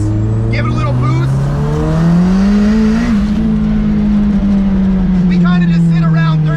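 A turbocharged car engine revs under boost, its droning note climbing in pitch and then holding high and loud, with a voice talking over it.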